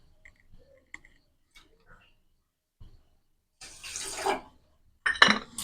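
After a few faint ticks and taps in a quiet kitchen, about one and a half bowls of water pour into sugar in a pan in two short, splashy bursts near the end.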